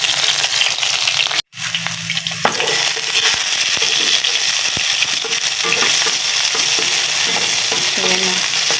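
Garlic sautés in a pan while seafood and vegetables in coconut milk are being prepared, giving a loud, steady sizzle and frying crackle. A brief gap comes early on, and stirring scrapes run through the rest.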